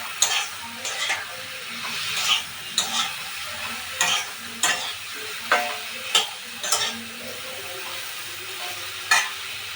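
Vegetables such as stalks and eggplant frying in spice paste in a pan, steady sizzle under repeated rhythmic scrapes of a stirring spoon every half second or so.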